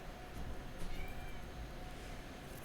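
A cat meows repeatedly in the video game Roblox Brookhaven over steady background noise, the calls somewhat muffled and mid-distance, with no talking.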